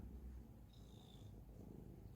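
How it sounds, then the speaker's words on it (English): A cat purrs close by in a steady, soft, low rumble, with a faint brief higher squeak partway through. "You're purring so loud"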